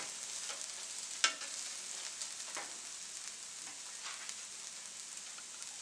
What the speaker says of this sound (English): I'm going to fold the rice in